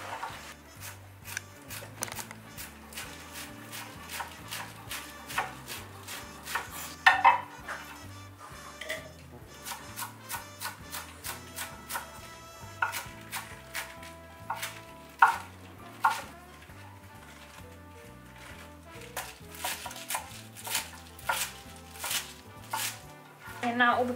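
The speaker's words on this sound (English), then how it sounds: "I'm going to cut this kind of down the middle and then leaf by leaf" A knife slices through napa cabbage leaf by leaf for homemade kimchi, with fast, irregular cuts against a board over low background music, moderately close.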